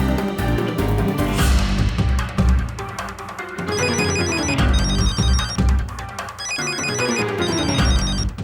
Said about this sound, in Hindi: अरे सरवणा का फोन है